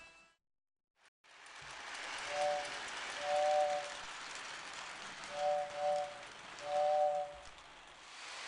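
Lionel toy model train running, a steady rolling rumble on track with repeated short paired whistle toots, fairly close, starting abruptly after a brief silence.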